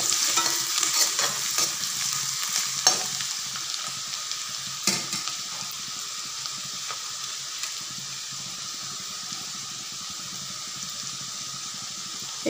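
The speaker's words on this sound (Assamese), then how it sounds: "ৰঙা হৈ যোৱালৈকে ভাজি ল'ম" Ingredients for a raw banana and lentil curry frying in a pan until browned, a continuous close sizzle broken by a few sharp spatula scrapes and taps early on, no voices.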